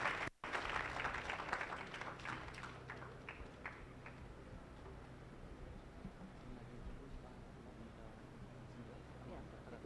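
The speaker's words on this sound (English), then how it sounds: "Let's clap for them." An audience at an education and leadership congress on refugee scholarships claps for guests: a brisk round of many hands that thins out after a few seconds into room noise, with talking over it.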